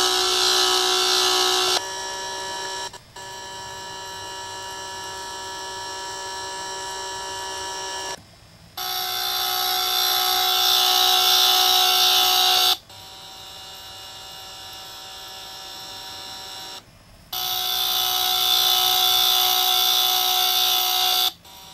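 A small electric motor, treated with DiamondLube, runs with a steady high-pitched whine and hum, cutting in and out in long stretches of several seconds with brief gaps and changes in tone, close and loud, with no talking.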